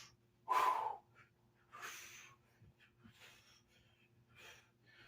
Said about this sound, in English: When you're going up, breathe in.